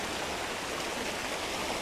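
River water flows in a steady, dense hiss of broadband rushing noise, continuous and fairly loud with no voices.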